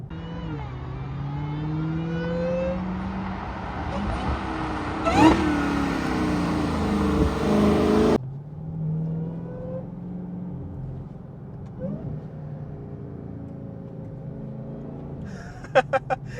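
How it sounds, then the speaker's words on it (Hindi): A 2023 Dodge Charger SRT Hellcat Redeye roars under load with a whining supercharger and loud exhaust, cutting off on a downshift, then settling into a lower drone with rising pitch and a few sharp crackles near the end. "Exhaust noise, cracks and pops, massive, crazy, loud supercharger noise."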